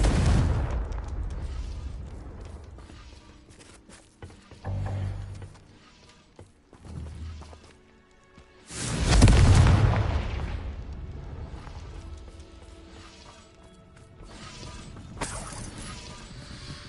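Confringo fire spell explosions in the video game Hogwarts Legacy, a series of deep booming blasts with crackling debris, the loudest erupting about halfway through, then a rumbling decay and a softer burst near the end.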